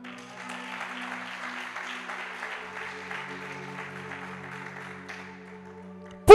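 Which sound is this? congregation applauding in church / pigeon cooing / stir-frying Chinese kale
congregation applauding in church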